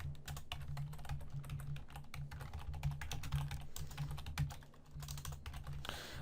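Java code is typed on a computer keyboard in a dense, continuous patter of close key clicks with irregular rhythm, fairly quiet and without talk.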